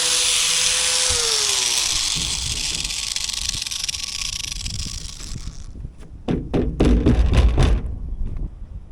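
A power tool spins with a sanding disc at high speed against the rusted roof of a Jeep XJ, a steady loud whine that winds down, followed by a string of sharp knocks and thuds.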